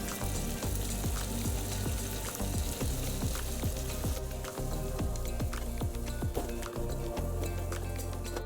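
Chopped tomatoes with kosher salt hit a hot pan and sizzle steadily, a dense crackling fry with small pops and spatters running the whole time, close and fairly quiet.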